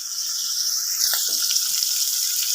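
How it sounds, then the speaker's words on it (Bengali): Chopped beans frying in a pan for a mixed vegetable paneer dish give a steady, bright sizzle, with a brief clatter and stirring noise about midway, and no talking. "এবার আমি দিয়ে দিচ্ছি বিনসগুলো, টুকরো করা বিনসগুলো দিয়ে দেবো। দিয়ে ভালোভাবে একটু ভেজে নেবো সবগুলো।"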